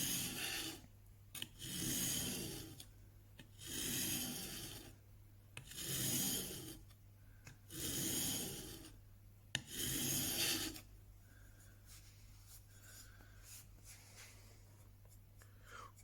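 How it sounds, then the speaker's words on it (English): A plane chipbreaker being honed on a sharpening stone: five slow, steady rasping strokes back and forth, close and clear, followed by quiet, with no talking. "Put it on the stone and just lift that up as I come back."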